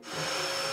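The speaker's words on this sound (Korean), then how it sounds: "내친 김에 청소기 돌리는 것까지" A household vacuum cleaner running at home, a loud steady whine and roar that swells up within the first tenth of a second and holds constant.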